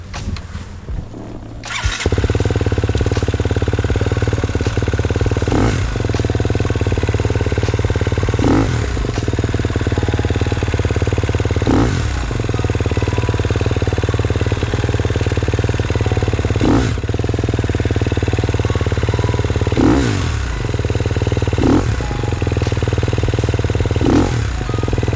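A KTM XC-F dirt bike engine idles and revs loudly up close, with repeated sharp throttle blips spaced every few seconds as the rider approaches and crosses logs.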